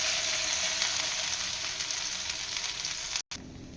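Mashed flat beans fry in a wok of hot oil seasoned with turmeric and salt, a steady dense sizzle and crackle that runs unbroken, with a brief cutoff near the end.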